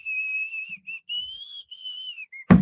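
A man whistling a high, wavering tune in short phrases with breaks between them, close and fairly loud, ending in an abrupt bump of noise.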